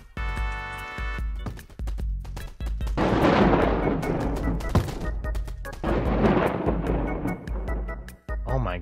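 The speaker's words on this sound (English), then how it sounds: "they're using like lightning or something" In the WorldBox video game, lightning strikes crack and boom again and again as loud sharp blasts with rumbling tails, close and dense, one after another with no voices.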